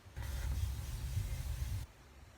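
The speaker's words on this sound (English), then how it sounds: "I'm going to set my face with the strawberry spray." A single steady spray of strawberry makeup setting spray onto a face hisses for about two seconds, close and fairly soft, then stops abruptly.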